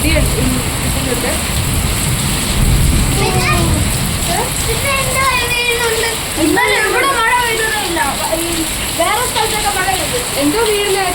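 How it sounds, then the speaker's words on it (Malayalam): Heavy rain pours in Bangalore, a dense, steady hiss of drops on surfaces at close range, with people talking over it throughout. "ഭയങ്കര മഴയാണ്, നല്ല കാറ്റുണ്ടായിരുന്നു കേട്ടോ."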